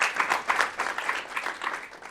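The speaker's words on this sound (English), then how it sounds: "So give us a round of applause." Audience applause at an intern symposium, a steady wash of many hands clapping fairly close and loud, with a faint voice or two mixed in.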